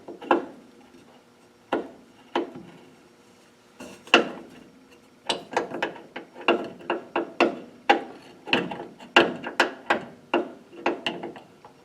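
A 9/16 wrench works a brake line fitting loose from a drum brake wheel cylinder on a Ford, with sharp metallic clicks and knocks, sparse at first and then coming in quicker, irregular bursts close by.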